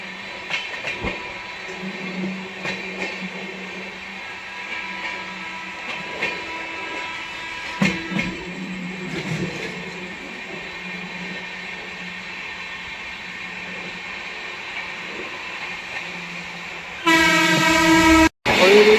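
A Rewa Express train runs through Etawah Junction at speed, a long rolling rumble with rail clatter and squeals that ends in a loud, sharp horn blast. Voices are faintly heard.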